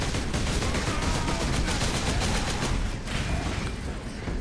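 Rapid, continuous gunfire from the Warhammer 40K Space Marine video game, a dense rattling burst of shots running the whole stretch at steady loudness with no talk.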